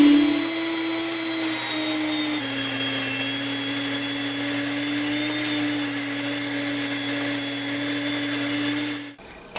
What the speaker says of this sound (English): Now we're ready to mill some flour.